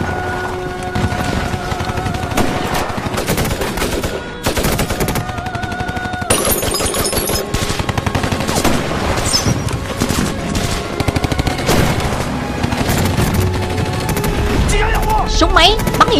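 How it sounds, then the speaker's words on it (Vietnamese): Battle scene from a Vietnamese war action film: loud, sustained machine-gun bursts crack in rapid rhythm, broken by short pauses and mixed with other gunfire and impacts. "Súng máy bắn yểm trợ."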